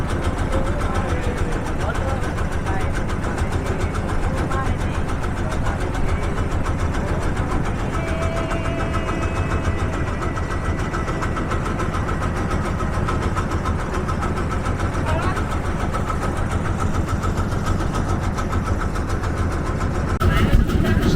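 A trawler boat's engine drones loudly and evenly on an hour-long river crossing toward the ghat at Mawa, a constant chugging rumble that swells slightly at the very end.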